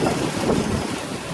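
Strong wind gusts from Hurricane Matthew roar against the microphone in a Jacksonville backyard, a continuous, loud, rumbling whoosh with no other sounds.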